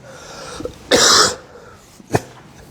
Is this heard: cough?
yes